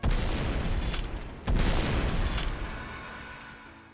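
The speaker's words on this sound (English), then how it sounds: "Alrighty, and this would be the rocket launcher" Two heavy, booming rocket launcher blasts in a Doom mod's custom weapons pack, close and loud, each followed by a rumbling tail that slowly fades out.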